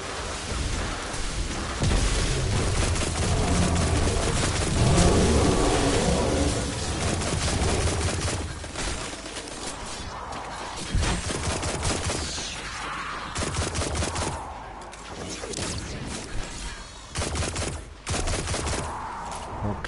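Gunfire in the video game Destiny 2, sustained bursts of rapid shots and blasts layered into a loud, continuous barrage that thins into scattered shots later.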